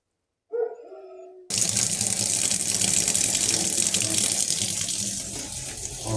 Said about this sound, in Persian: آب کاملا باز